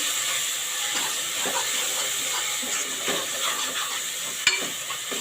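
An onion-tomato tempering for dhaba-style dal palak fries in hot oil, giving a steady close sizzle and hiss with faint scrapes of stirring and no talk.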